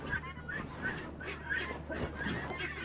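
Guinea fowl calling repeatedly in a rhythmic series of harsh, nasal two-part cries about every half second, fairly close and outdoors, with light wind behind them.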